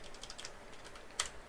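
Soft keystrokes on a computer keyboard tap in a loose cluster, followed by one sharper, louder key press, in a quiet room.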